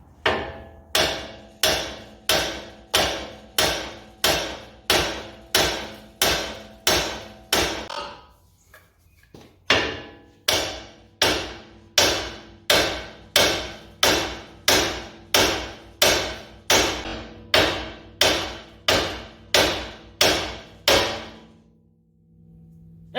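Steel hammer striking a turning coilover bolt on a Toyota FJ Cruiser: a long series of loud, evenly spaced metallic whacks, one roughly every second, with a short break partway through.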